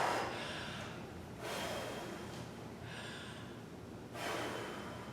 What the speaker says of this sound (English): I'm going to take a couple deep breaths.